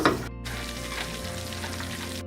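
Butter and flour roux being whisked in a pan for turkey gravy, a steady close sizzle with a low hum underneath, continuous for a couple of seconds.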